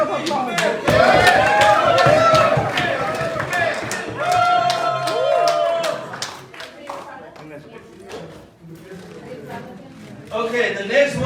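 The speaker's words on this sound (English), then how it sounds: "Can we have another round of applause?" An audience at the ANTA 6th General Convention applauds, crisp dense clapping that swells and then thins out, with talk over and between the claps.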